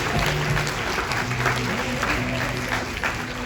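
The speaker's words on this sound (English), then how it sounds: "So again, another big applause to them." A live audience at a product founder's event gives sustained, lively applause, dense clapping at a steady level from start to finish, with some crowd murmur beneath.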